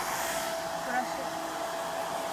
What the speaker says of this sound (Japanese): ドライヤーもちょうだい。